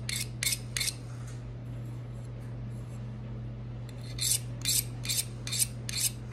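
A knife blade drawn through a portable tungsten carbide sharpener: sharp, bright scraping strokes in quick bursts, three at the start, then a pause, then a rapid series of five or six, close and crisp over a low steady hum.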